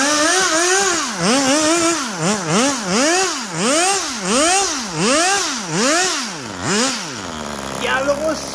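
A small gasoline RC car engine, just pull-started, runs close and loud with a buzzy, chainsaw-like whine that rises and falls in rapid repeated revs, then drops to a rough idle and cuts out near the end.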